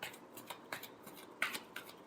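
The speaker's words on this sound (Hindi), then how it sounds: "Last shuffle." Tarot cards being shuffled by hand, heard as a quick series of soft, crisp riffling flicks, close and fairly quiet, with no talking.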